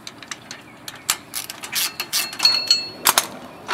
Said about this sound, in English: So we take all the bolts off